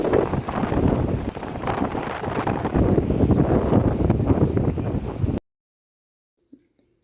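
Strong wind near Vivekananda Rock in Kanyakumari on a sunny day, a loud, gusty rumble buffeting the microphone for about five seconds before cutting to near silence with one faint knock.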